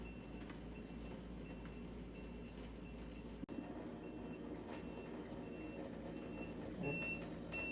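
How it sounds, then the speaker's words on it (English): A Waterdrop reverse osmosis water filter unit under a sink gives faint, repeated short warning beeps, signalling that filters need replacing, heard from a distance over a low background hum. "you'll also hear a beep coming from the unit inside under the sink"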